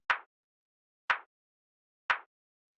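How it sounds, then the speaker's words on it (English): Three evenly spaced hits of a rimshot sample meant to layer under a clap in an electronic beat, each a sharp, punchy transient with a fast tail, one per second, played alone. "and then we have this rimshot underneath it"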